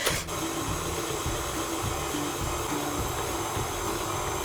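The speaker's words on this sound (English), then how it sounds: "So I'm just using the regular paddle for this." A stand mixer fitted with the regular paddle beats stollen dough, giving a steady, loud motor whir with a rhythmic low churning that runs unbroken through the whole stretch, with no talking.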